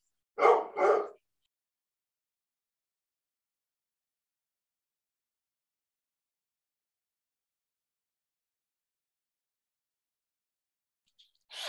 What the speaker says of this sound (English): hopefully he stops barking.